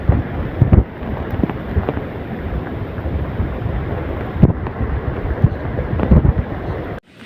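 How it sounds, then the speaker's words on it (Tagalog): Boulders rolling in a strong flash flood, a continuous heavy roar and rumble with thudding knocks throughout, loud and close, cutting out abruptly at the end. "Parang kulog yung mga bato."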